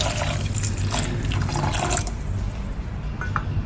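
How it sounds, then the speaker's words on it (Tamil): One cup of water pours onto powdered jaggery in a bowl, a steady close trickle running unbroken for a few seconds with no voices. "இப்போ கிண்ணத்தில் பொடிச்ச வெல்லத்தை போட்டு அதோட 1 கப் அளவுக்கு தண்ணி ஊற்றிக்கிறேன்."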